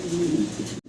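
Fancy pigeons cooing close by in a continuous low, throaty rolling call that runs for most of a second before breaking off abruptly into near silence.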